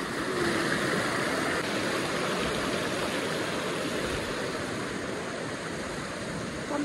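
A large mountain stream in Nepal rushes in a steady, unbroken wash of water noise, moderately loud and even throughout with no voices over it.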